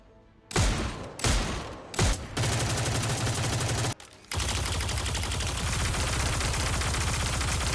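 Legendary weapons fire in the video game Destiny 2, with three loud separate shots followed by a sustained, dense burst of rapid gunfire that breaks off briefly and then resumes and continues.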